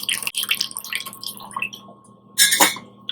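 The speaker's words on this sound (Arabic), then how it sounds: "عم ينزل الميه هون، شايفين هذيك شلون المي عم تنزل؟" Whey drains and drips from homemade ricotta cheese in a strainer, scattered close drips and trickles with a short louder splash near the end, no talking.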